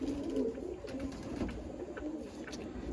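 Pigeons kept for sale and show coo softly in a steady low murmur that runs through the whole stretch, close by, with no talk over it.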